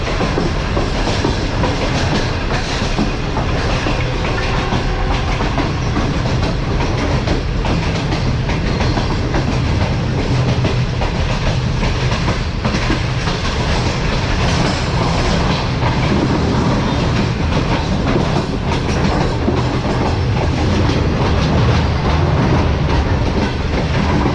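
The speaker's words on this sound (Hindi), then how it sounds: "तेज़गाम को बीट करती हुई गाड़ियां बहुत स्पीड में आगे निकल रही हैं और ये मज़ेदार ट्रैक साउंड के साथ" A Tezgam passenger train runs at speed along the railway track, its loud, continuous clatter and rumble filling the whole stretch from inside the coach, with no talking.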